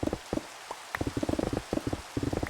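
Rain falls in the sandbox video game Minecraft as a patter of close, irregular drops ticking in quick clusters, fairly quiet and without talk.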